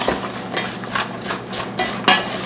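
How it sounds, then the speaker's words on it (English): A spoon stirs an apple filling for a fillo-dough strudel-style dessert, making a few soft scraping strokes and light clinks against the bowl, close up, with no voices. "Give it a little stir."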